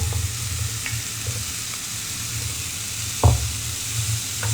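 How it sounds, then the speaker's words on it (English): Rice cakes fry in a spicy carbonara sauce, a low continuous sizzle with a few soft stirring knocks and one sharper clack of the utensil against the pan. "And then let's just toss this around a little bit."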